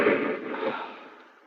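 Hand grenade blast in a radio drama, a single broad burst of noise that starts loud and trails off over about a second and a half, with no voices.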